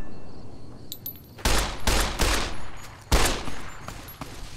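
Several 10mm pistol gunshots in Fallout New Vegas, a handful of sharp loud cracks spaced irregularly over a few seconds with faint game ambience between them.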